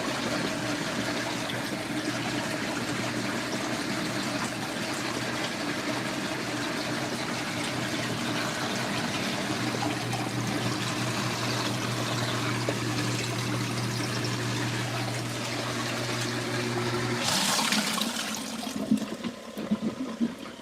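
An LG ThinQ MEGA washer drains water with a steady rushing, gurgling flow and a low pump hum, ending in a brief louder surge of water near the end.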